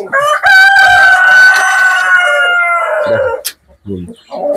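Farm chickens in a poultry shed: a rooster crows loudly and steadily for about three seconds up close, followed by a few softer clucks and calls from the flock.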